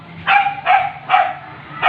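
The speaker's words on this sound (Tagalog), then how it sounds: "ingay yung aso may nakakulong aso dyan" A dog barks four times at a steady pace, loud and close, with short gaps between the barks. The dog is one of the strays caught and penned nearby in a Filipino neighborhood.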